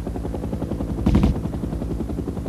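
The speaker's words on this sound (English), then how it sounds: "the helicopters flare, committing themselves to land" Military helicopters in the Vietnam War flare to land: a steady, heavy rotor and engine drone with rhythmic low thumping throughout, swelling into a louder burst mid-way that may carry gunfire.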